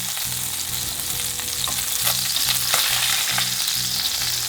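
Salmon fillet sizzling steadily in a frying pan, a continuous close crackle and hiss with a faint rhythmic pulse underneath, no voices.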